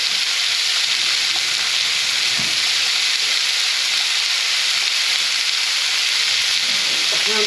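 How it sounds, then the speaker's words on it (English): Beef olives frying in a little oil in a pan, a loud, continuous close sizzle and hiss that stays constant with faint spatters underneath. "I've just put a little bit of oil in there and I'm just going to fry these"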